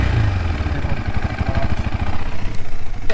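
A KTM Adventure 390 motorcycle engine idles up close with a steady, pulsing low thrum that holds throughout, rising a little toward the end.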